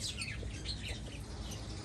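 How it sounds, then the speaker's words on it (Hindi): Small birds in a village garden in Pakistan at midday, a quick series of sharp chirps and squawks, moderately close, over steady background noise. "ये चिड़िया तो हमला कर रहे हैं जी, छोटिया छोटिया हुई"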